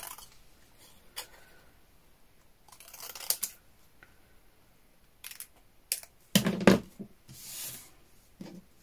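Quiet snips and paper rustles as scissors cut stamped paper card into a rectangle for a small tag, a few sharp crisp cuts spaced irregularly, close and faint, with no talking.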